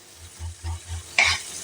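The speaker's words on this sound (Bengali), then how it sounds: "এবার এটাকে সুন্দর করে নাড়াচাড়া করব" Chopped tomato mixture with salt being stirred in a pan: four soft, rhythmic low scrapes and thumps of the spoon, then a short bright hiss of sizzling near the end.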